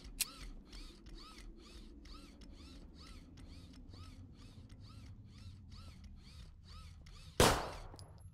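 Reloading in the video game Zompiercer brings a long run of evenly spaced mechanical clicks, ratchet-like and quiet, followed near the end by one sharp loud shot that decays into a short hiss.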